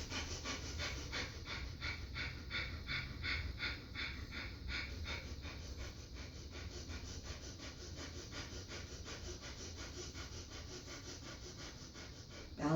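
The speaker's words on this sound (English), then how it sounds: "breath of fire" Breath of fire yoga breathing: rapid, rhythmic pumping exhalations through the nose, close and fairly faint, keeping a steady fast pace with no pause.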